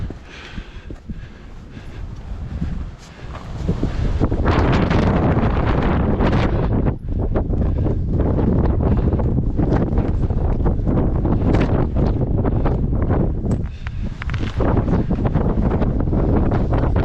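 Strong mountain wind roars and buffets the microphone in sustained loud gusts, with a brief lull near the start and a few short dips, no voices.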